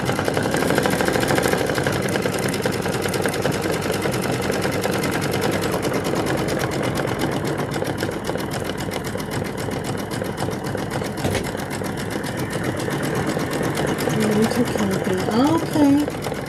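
A sewing machine running a steady, close, continuous whir while stitching a shiny satin stitch on a quilted wall hanging, with the motor's busy rattle sustained throughout and talking faintly underneath.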